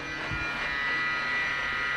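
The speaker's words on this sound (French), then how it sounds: "j'ai plus qu'à laisser l'aspirateur travailler à ma place" Vacuum cleaner running nearby, a steady, loud electric whine and buzz holding a constant pitch with no pauses and no voices.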